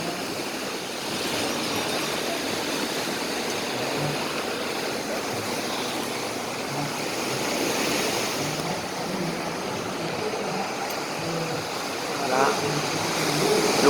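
Ocean surf rolls in steadily during a surfing contest at Kalim beach, Phuket, with waves around two metres; a broad continuous wash of breaking water, heard from a moderate distance.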